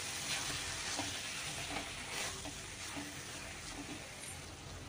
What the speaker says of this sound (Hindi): अब सभी चीज़ों को हम अच्छे से मिला देंगे, मतलब सारे मसालों को अच्छे से हम मिला देंगे।